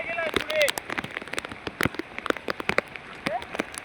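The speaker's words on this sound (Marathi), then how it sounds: "पण एवढा पाऊस आहे ना, बेकार हालत आहे." Heavy rain pours steadily around a flooded farmhouse, with dense patter and scattered sharp drop impacts close by, and brief faint vocal sounds at moments.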